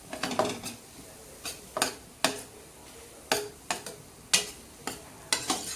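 Grated paneer stirred in a pan over low heat, a spatula tapping and scraping against the metal in sharp, irregular strokes about once or twice a second, close and crisp with a quiet background, no talking.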